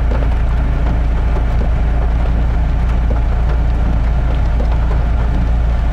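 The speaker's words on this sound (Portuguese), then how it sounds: "Agora começou a chover um pouquinho mais," Rain pattering steadily on a moving car, blended with a constant low road and engine rumble throughout, with no voices over it.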